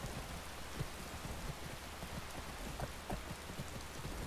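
Steady rain in the game Skyrim falls as a continuous hiss of dense droplets, with scattered louder drips and patters landing close by, and no voices over it.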